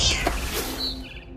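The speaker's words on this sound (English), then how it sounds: "Then I heard chirping outside my window. It was a barn swallow going back to her nest." A barn swallow chirps in the game What Remains of Edith Finch, with a few short high-pitched calls over a murky ambient background, brief and moderately faint.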